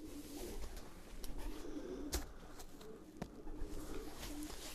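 Breeding pigeons in their loft keep up a low, continuous cooing, rising and falling gently, with a couple of sharp clicks or wing taps breaking through at moments.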